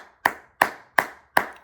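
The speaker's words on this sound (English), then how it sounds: "Round of applause" Four deliberate, evenly timed hand claps ring out crisply up close with nothing else around them, during a tribute to Dick Cheney, former House member from Wyoming.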